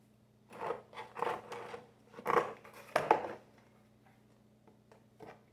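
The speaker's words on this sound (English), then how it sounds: "So I'm just gonna cut straight across." Scissors snip straight across in a series of short, crisp cuts, close and quiet, spaced irregularly with brief pauses between bursts.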